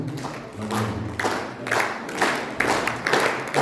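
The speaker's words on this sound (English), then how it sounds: "please round of applause to Vidyalaya Vidyalaya Vidyalaya, the new director, Department of Education" Applause from the audience for the chief guest, the new director of the Department of Education, at a school outreach programme: a steady patter of many hands clapping, fairly close and moderately loud, with a low hum underneath.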